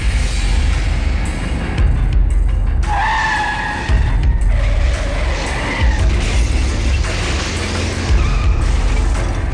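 A loud, dense sound effect of a car accident, with tires screeching and skidding in rising squeals amid a heavy, continuous roar and a few dull thumps.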